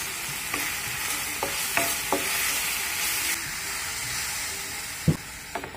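Spices, including chili powder, green chili paste and dried red chilies, roast in a pan with a soft, steady sizzle, while a utensil occasionally scrapes and taps against the metal.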